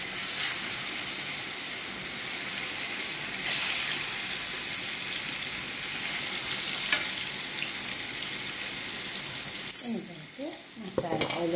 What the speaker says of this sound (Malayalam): മീൻ പൊരിക്കാൻ വെക്കാം നമുക്ക്.